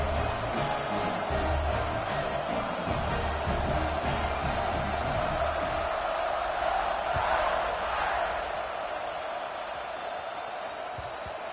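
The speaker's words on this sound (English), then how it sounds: "Do you think this crowd's going to get loud when their defense comes on the field?" Stadium crowd in the College Football 26 video game, a dense, loud wash of cheering and roaring fans that holds steady throughout, swelling slightly in the middle before easing back a little.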